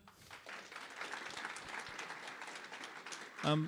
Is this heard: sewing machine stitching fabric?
no